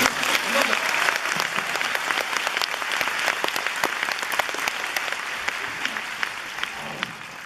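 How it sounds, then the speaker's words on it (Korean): A theatre audience and cast at a musical showcase applaud together, dense steady clapping from many hands that fills the room and tapers slightly toward the end, without speech. "배우분들과 그리고 열심히 봐주신 관객 여러분들 동시에 서로 박수 치는 시간을 갖도록"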